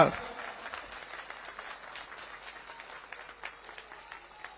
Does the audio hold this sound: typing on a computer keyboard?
no